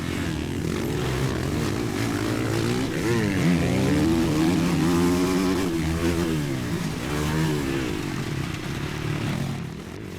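Chinese dirt bike engine racing up a hill on a motocross track at Woodford, loud sustained two-wheeler roar with rising and falling revs as the rider works the throttle, close and continuous throughout.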